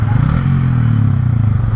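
A motorcycle engine runs steadily while being ridden through deep flood water in Bacoor during Typhoon Enteng, a loud low drone close by with a continuous rough rumble throughout.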